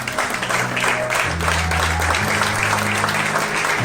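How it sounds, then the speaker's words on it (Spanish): A church congregation claps loudly and steadily during a worship service, a dense sustained applause with music or hum underneath, no pauses. "Vamos a dar un fuerte aplauso al Señor."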